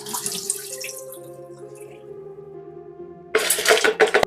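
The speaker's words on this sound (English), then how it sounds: "let's pour this water off the lentils one more time into a big pan" Water from soaked lentils is poured off into a big kitchen pan, a steady splashing stream that rises into a louder, brighter gush near the end before cutting off.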